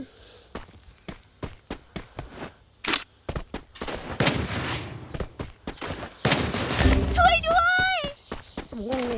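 Gunfire and a grenade blast in a ranked squad shooter video game, with rapid sharp shots in bursts, a broad explosive burst midway and bright electronic effect chirps near the end, heard close and loud over the game audio.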